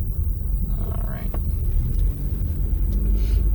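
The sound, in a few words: FedEx delivery truck driving behind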